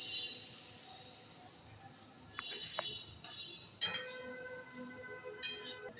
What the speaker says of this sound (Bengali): এবার আমরা সুজিটাকে নাড়াচ্ছি ভালো করে